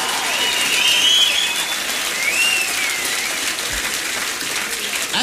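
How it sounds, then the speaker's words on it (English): An audience at a comedy club applauds in a steady, dense wash of clapping that holds loud and even throughout, with no voices heard over it. "Keep it going for Rich Ceisler, huh?"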